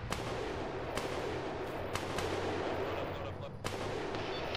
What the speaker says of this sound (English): we're just taking fire from somewhere